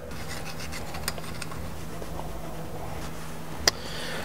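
Old gasket material is scraped off the housing of a Ford Super 8.8 differential, a quiet, continuous rasping and rubbing with a couple of faint sharp clicks, one near the end.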